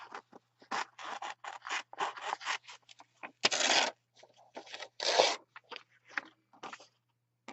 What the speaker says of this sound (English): I can just, take that image, cut it out